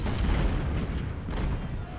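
Booming cannon fire in Ultimate General: Civil War during a 2nd Bull Run battle, a dense, continuous low rumble of overlapping artillery reports that fills the scene without pause.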